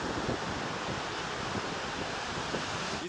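Ocean surf rolling onto a beach at the edge of Europe, a steady broadband wash of breaking waves mixed with wind buffeting the microphone, continuous and fairly loud with no voices.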